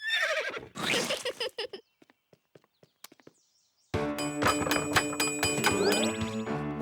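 A cartoon king's horse gives a loud, shaky whinny, followed by a few soft scattered taps and a pause, then a bright, ringing musical passage with clip-clop hoofbeats.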